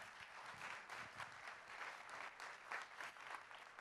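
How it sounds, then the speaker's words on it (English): A festival audience claps at a welcome session, a quiet, steady roomful of applause that swells and dips slightly without any talking. "let's give them an applause"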